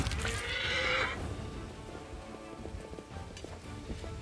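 A plagued horse in the fantasy video game Pathfinder: Wrath of the Righteous lets out a single whinny near the start, followed by a steady patter of rain and faint game ambience.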